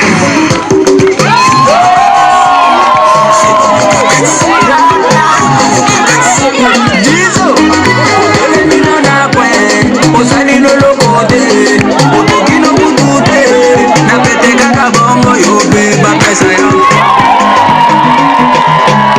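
Loud crowd at a telethon cheering, whooping and shouting over music and babble, a dense, continuous roar that never lets up.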